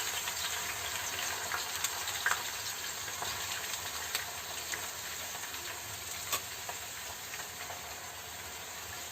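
Chopped green chillies frying in a few spoons of hot oil, a steady bright sizzle with small pops and crackles, close and continuous throughout with no talking.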